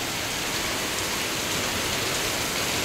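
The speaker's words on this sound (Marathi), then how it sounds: "हे बघा जाम पाऊस पडतोय" Heavy rain pours steadily in a dense, even hiss, loud and close without pause.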